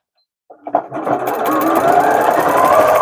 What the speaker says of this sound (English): A couple inches of sewing, another back stitch